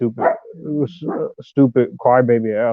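A pet dog barks and yelps in a home while someone talks over it, the sharp barks mixed in with and partly covered by his voice.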